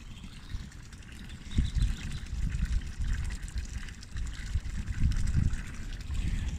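Water runs to waste outdoors in South Owersby, Lincolnshire, a continuous rushing and trickling flow with low rumbling surges, close and fairly steady throughout.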